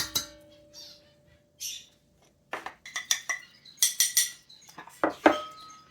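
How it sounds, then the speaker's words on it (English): Cream of tartar is shaken in a metal measuring spoon, producing a short series of light clinks and scraping taps that come in quick clusters, close and fairly quiet. "Give it another little shake just to make sure I got that half in there"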